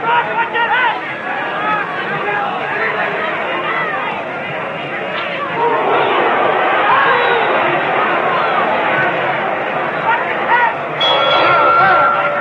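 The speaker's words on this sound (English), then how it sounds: "the bell, end of round 8." A boxing bell rings near the end of the round in a 1952 heavyweight fight, Rocky Marciano vs Jersey Joe Walcott, heard briefly over a loud roaring arena crowd and a commentator's voice.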